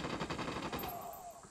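Gunfire from a sniper engagement in the video game Ghost Recon Wildlands, a dense burst of rapid shots at moderate distance with a whistling streak near its end, no talk over it.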